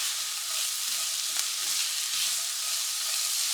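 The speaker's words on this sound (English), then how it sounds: "I'll just cook this long enough to get that raw garlic taste out of the garlic and to blend all the flavors of the veggies together." Garlic and vegetables sauté in a pan for salmon patties, producing a bright, even hiss of frying that holds steady throughout, close and fairly loud, with no talking.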